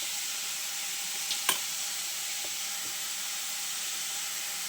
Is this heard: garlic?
yes